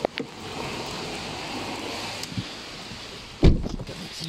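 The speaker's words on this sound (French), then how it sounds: "Il recommence à pleuvoir fort." Rain patters steadily on the roof and windows of an Audi A4, a soft continuous hiss with a few sharper knocks and a louder thump near the end.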